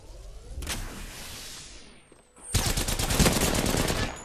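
Gunfire in the battle royale shooter Apex Legends: a single sharp shot with a ringing tail, a brief lull, then a sustained fast automatic burst of close, loud rounds.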